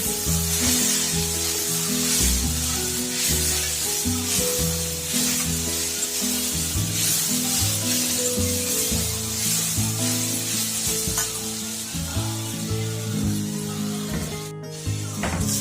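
Ginger and garlic roasting in a pan for a spicy chicken curry, a steady close sizzle and crackle that runs unbroken under a low musical bed, with no one talking.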